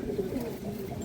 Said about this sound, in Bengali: এই যে দেখেন দর্শক, বাঘা খাকি মাদি কবুতর।